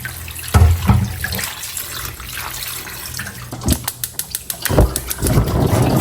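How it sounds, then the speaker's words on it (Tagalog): Second coconut milk pours into a cooking pot holding ginger, pepper, sardines and salt, giving a splashing liquid sound with a few sharp clinks near the start and end. "At ibubuhos na po natin yung pangalawang gata."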